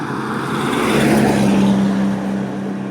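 An electric car cruises at about 40 km/h, giving a steady close road and motor hum that swells and eases over a few seconds, with no talking.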